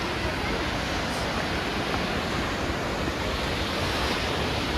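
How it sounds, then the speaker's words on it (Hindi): Chamb waterfall in Azad Kashmir gives a constant loud broadband roar of rushing water with wind buffeting, steady and dense throughout, with no talk standing out. "जैसे जैसे हम करीब आते जा रहे हैं, छम वाटरफॉल हमारे पास आता जा रहा है।"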